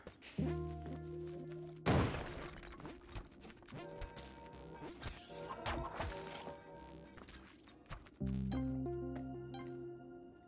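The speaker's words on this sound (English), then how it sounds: "I'm gonna put a bomb here" A bomb goes off in Spelunky 2 with a loud, sharp blast burst amid chiming game music and clinking effects, followed by scattered thuds and clatter as the music carries on.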